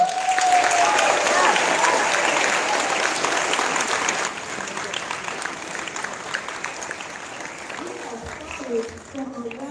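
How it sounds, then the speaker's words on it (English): Students at a Black History assembly give a round of applause, dense clapping that fills the room and then thins and fades toward the end, with some crowd murmur. "Give yourselves another round of applause."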